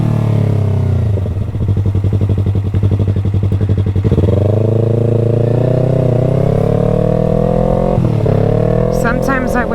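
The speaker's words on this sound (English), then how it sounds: "Straight piped motorcycle." A loud straight-piped motorcycle exhaust at night, revving with a rapid, rough idle pulse before settling into a steady drone that builds as it accelerates away, with some speech over the top.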